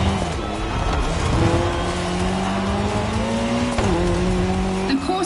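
In The Crew Motorfest, a racing car's engine drones and climbs through the gears while tires squeal on a course shared with a motorcycle. The sound is loud and continuous, with a voice faintly present underneath.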